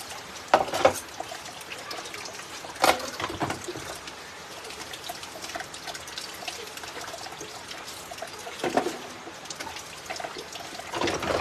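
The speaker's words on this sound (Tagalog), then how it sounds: "may tubig na konti" Water runs from a tap in a thin, steady trickle close by, with a few louder splashes breaking the flow.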